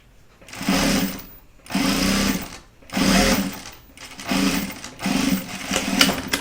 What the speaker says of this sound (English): it's sew at 1/4 inch, seam allowance, back stitch